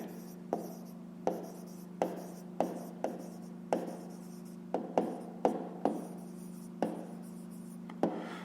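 A pencil scratches across paper while math homework is worked out, with repeated short strokes and sharp taps in an irregular rhythm, close and clear over a steady low hum.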